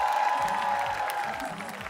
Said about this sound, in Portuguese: ser aplaudido em cena aberta